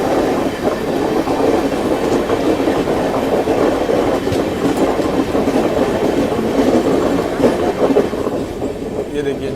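A Jan Sadharan Express train running on rails on a journey toward the Delhi line, a loud steady rumbling roar with faint rhythmic clatter, heard from inside the carriage.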